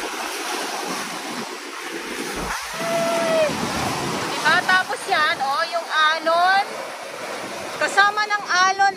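Ocean waves wash onto the littered Manila Bay shore near the dolomite beach, a steady broad surf rush with wind buffeting the microphone, while people talk over it in the second half.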